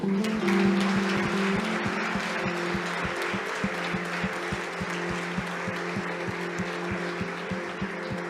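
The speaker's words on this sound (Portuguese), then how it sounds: "Dê um aplauso ao Senhor" Church congregation applauding the Lord after a closing prayer, a dense steady wash of many hands clapping that holds for several seconds, with rhythmic low thumps running underneath.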